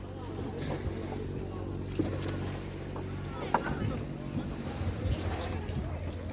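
A boat cruises across fresh water on a trip to Ilha do Guaraú in Peruíbe, its low engine drone steady under heavy wind buffeting, with someone talking intermittently over the motor and water.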